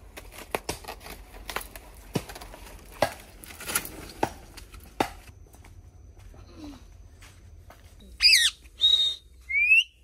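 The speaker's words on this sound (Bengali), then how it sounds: "এই তো এই পাখিটা ডাকছে" A bird calls in a few clear repeated bursts near the end, preceded by scattered clicks and taps in a quiet setting, with no talk.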